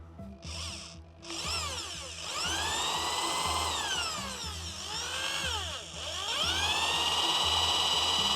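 A hand drill with a 3.5 mm bit whines continuously, its pitch sweeping up and down as it bites into metal on a BMW M5 differential part, loud and close with no voices.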